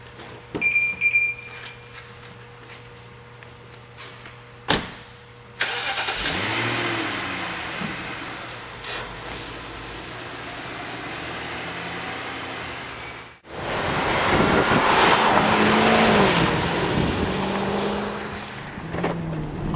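A BMW 550i sedan's engine pulls strongly while driving, with a steady mid-pitched drone and road noise that swells under acceleration. The sound drops out briefly partway through before building again, loud and close from inside the cabin.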